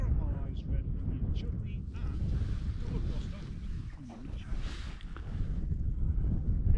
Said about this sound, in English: It is really windy, but we don't mind.